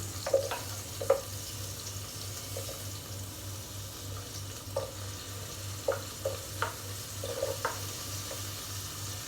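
Garlic and onion sautéing in a pan, a soft steady sizzle with scattered spoon clinks and scrapes, close and fairly quiet, no talking.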